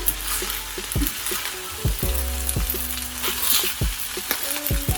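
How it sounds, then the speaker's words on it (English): Chicken egg fried rice with soy sauce and pepper being stir-fried in a pan: steady close sizzle with repeated sharp scrapes and knocks of a utensil against the pan, alone without talk. "Mix all the ingredients well again"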